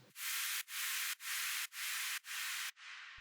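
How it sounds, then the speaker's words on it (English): Bursts of bright white noise from a sample pack, used in a dance track's final drops, hiss in a steady rhythm, about five even pulses cut by brief dips, ending on a quieter, softer stretch. "And then finally there is this white noise from the Cashmere pack"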